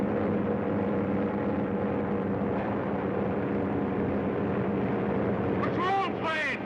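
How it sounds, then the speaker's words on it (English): A patrol plane flies overhead in a 1934 film scene, giving a continuous loud propeller-engine drone that fills the whole clip, with a voice breaking in near the end. "Patrol plane!"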